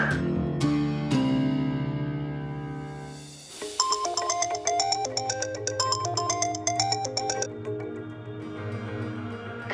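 A phone ringtone plays loud and close: a few sustained tones, then a bright repeating electronic melody carrying on steadily.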